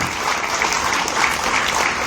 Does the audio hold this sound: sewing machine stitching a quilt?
no